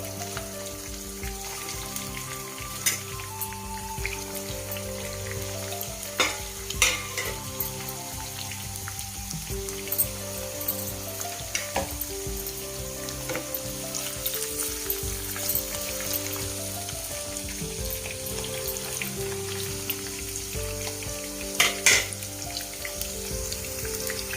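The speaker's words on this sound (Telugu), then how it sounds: "అలాగా కలిపి సిమ్లో పెట్టుకొని వేపుకోవాలండి." Whole bitter gourds fry over low heat in a pan, a continuous crackling sizzle like rain on a surface with occasional sharper pops and spatters, steady and close throughout, no voices.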